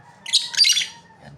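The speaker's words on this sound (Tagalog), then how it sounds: "Ayan pa yung ibon namin." A pet bird gives a few sharp chirps and squawks close by, two short bursts in quick succession over a quiet room.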